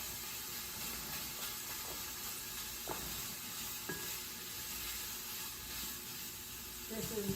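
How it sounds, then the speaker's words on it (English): Onions and celery for sausage stuffing sizzle steadily in a pan, a continuous close hiss with a few soft stirring scrapes and knocks, the frying noise running alone throughout. "the onions and the celery are getting cooked"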